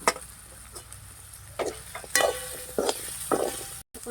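Beetroot with turmeric, salt, spice paste and powder being stirred in a pan for pav bhaji, giving a low sizzle with intermittent scraping and clinking strokes from the spoon, close by with no talk.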